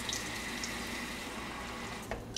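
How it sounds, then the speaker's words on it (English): Warm tap water runs steadily from a faucet into a hamster's water bottle during a cleaning routine, a continuous rushing stream with small splashy bursts, close and fairly loud, no talking. "I'm going to fill this up with warm water"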